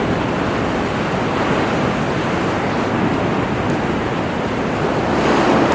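Big ocean waves breaking over a reef off the Philippines, a loud, continuous roaring wash of surf with wind noise buffeting the microphone, no voices.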